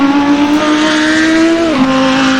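Race cars at Mugello drone steadily with a held engine note that drops in pitch near the end as a car shifts or brakes, loud and continuous with no voices.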